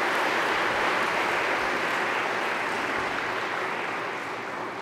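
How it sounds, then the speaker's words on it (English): A room of people applauds an honoree at an academic event on media evangelization, steady dense clapping lasting several seconds and slowly tapering, moderately loud and without talk over it. "Let's give him a round of applause for that."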